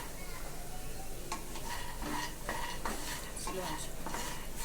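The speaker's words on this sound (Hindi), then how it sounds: "घी में फ्राई कर रहे हैं, देख सकते हैं आप लोग" Makhana (fox nuts) fry in ghee in a pan on a low flame for a shahi matar makhana curry, giving a steady soft sizzle with scattered scraping and light clinks of a spoon against the pan.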